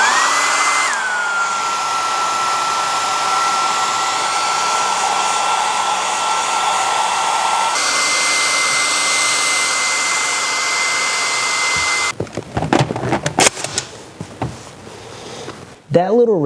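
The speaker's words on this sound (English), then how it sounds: "So one thing I'm going to use a blow dryer." A blow dryer runs steadily for about twelve seconds, warming a motorcycle seat cover to make it pliable, its whine dropping slightly in pitch early on, then gives way to scattered clunks and handling noises.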